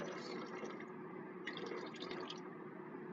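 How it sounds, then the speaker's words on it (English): Water poured off from a gold prospecting bucket, a steady faint splashing and trickling stream with a brief brighter gush partway through, heard alone without voices. "First I'm going to pour some water off so I don't make a huge mess."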